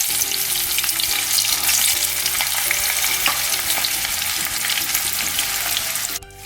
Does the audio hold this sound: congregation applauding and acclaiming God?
no